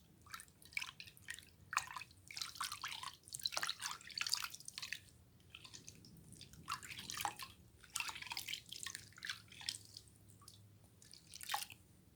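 Hands are washed with soap in a basin of water, giving irregular close splashes, drips and sloshing in uneven bursts that rise and fall in a quiet indoor space, with no voices.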